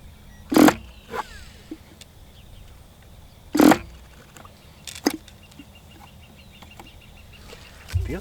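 An HP 20 Gold Cup model engine is cranked with an electric starter, giving brief loud whirring bursts separated by seconds of quiet, close by, with no talk.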